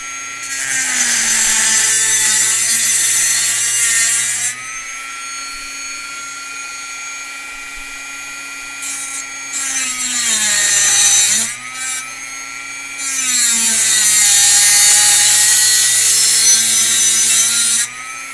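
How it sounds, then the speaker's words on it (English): A Dremel rotary tool with a cutting disc cuts a foam dart blaster part: a loud high-pitched whine with gritty grinding that rises and falls in several bursts, dropping to a steadier idle between cuts. "Alright, here we go with the Dremel."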